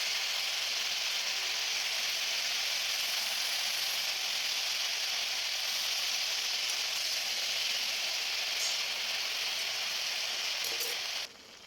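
Fresh spinach (palong shak) cooking in a pan with turmeric and spices, a steady loud sizzle and hiss that runs unbroken and cuts off sharply at the very end.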